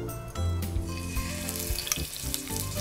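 Prawns frying in a little butter and oil in a home kitchen pan, a dense, continuous sizzle with hissing and spattering throughout, close and fairly loud, with no voices.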